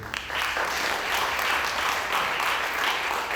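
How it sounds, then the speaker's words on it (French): A steady wash of crowd applause fills a centre hall at a women's slam poetry competition, continuous and fairly close for a few seconds with no talk over it. "applaudir monsieur, s'il vous plaît"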